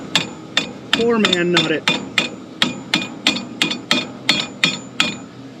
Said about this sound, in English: All right, now Dad needs the hammer.